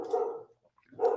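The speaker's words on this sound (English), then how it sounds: "My dog is barking." A dog gives two short barks separated by a brief pause, close and moderately loud, with no talking around them.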